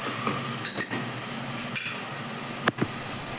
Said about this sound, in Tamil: போட்டு நல்லா எண்ணெயில் அதையும் ஒரு 2 நிமிஷம் வதக்கி விட்டணும்